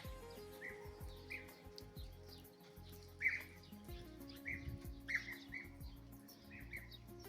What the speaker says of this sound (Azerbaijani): Arı quşları.